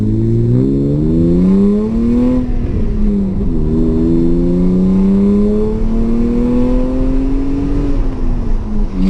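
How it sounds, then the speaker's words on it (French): Loud, raspy exhaust of a BMW E36 coupé with its rear muffler removed drones close by, rising and falling with revs as the engine is blipped and held, with no voices. "le silencieux arrière, en fait, il a été supprimé. Donc du coup, elle fait énormément de bruit."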